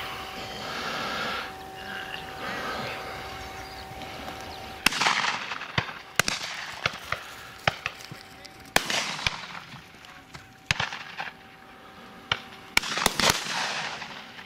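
Shotguns fire at a pheasant and partridge shoot outdoors, with a series of loud, sharp bangs at irregular intervals, some in quick pairs, each ringing out into open country, while people talk and call out between shots.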